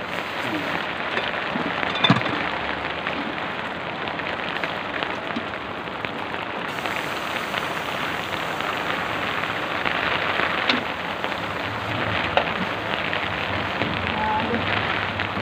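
Heavy rain pours steadily onto a surface in a dense, continuous hiss, close and fairly loud, without a break for the whole stretch.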